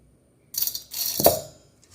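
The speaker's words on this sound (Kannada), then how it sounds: "ಈಗ ಒಂದು ಮಿಕ್ಸಿ ಜಾರ್ ತಗೊಂಡಿದ್ದೇನೆ ಅದಕ್ಕೆ ಈಗ ಅಕ್ಕಿ ಹಾಕಿಕೊಳ್ಳಿ" Dry rice poured into a steel mixie jar while making a coastal Karnataka masala kadubu, a close rattling, grainy pour lasting about a second with no talk.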